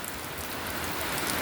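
Rain falls steadily outdoors as an even, hissing wash of drops, moderately loud and unbroken, with no voices over it.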